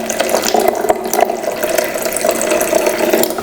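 Tap water runs steadily into a measuring container to make 150 ml for mixing with acrylic paint, a close, continuous splashing rush with no talk.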